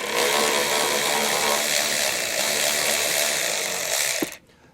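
A 10mm plastic screw on a trailer taillight is being loosened, with a loud, steady mechanical whirring that runs unbroken for about four seconds before stopping sharply into quiet.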